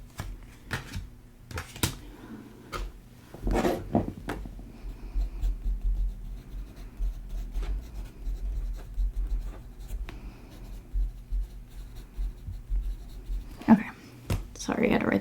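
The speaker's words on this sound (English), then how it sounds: "Sorry, I had to write that down." A pen scratches and taps across paper in short bursts as something is written down by hand, close and fairly quiet, with a brief rustle toward the end.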